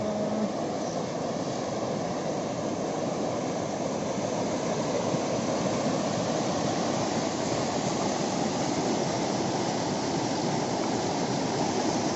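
A brimming storage lake overflows its spillway after heavy rain, a steady, loud, unbroken roar of rushing water lasting throughout with no voices.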